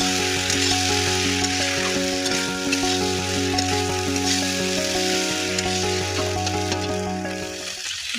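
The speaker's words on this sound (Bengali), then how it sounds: "আগে থেকে ভেজে রাখা ডালের বড়িগুলো এবং চিংড়ি মাছগুলো দিয়ে ভালো করে নেড়ে নেব।" Pre-fried lentil nuggets and shrimp are stirred in a hot pan, making a continuous loud sizzle partly masked by steady background music.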